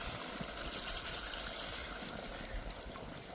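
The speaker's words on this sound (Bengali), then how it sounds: "এবার দিয়ে দেব জল, গরম জল দিচ্ছি এখানে।" Hot water poured from a vessel into a pan of chicken curry cooked with young jackfruit, giving a steady, soft gushing trickle that runs for a few seconds on its own.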